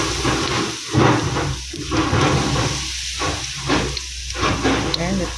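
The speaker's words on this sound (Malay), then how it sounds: "Minyaknya dah panas. Kita letakkan adunan goreng tadi" Banana fritter batter goes into hot oil and fries with a steady, close hiss and sizzle that carries on continuously throughout.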